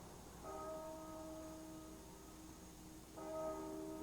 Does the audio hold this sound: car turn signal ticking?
no